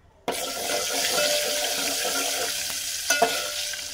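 Turmeric, red chili powder and asafoetida hit hot oil for a Maharashtrian masvadi tempering and are stirred, giving a steady loud sizzle after a sudden start, with a couple of scraping clinks near the end.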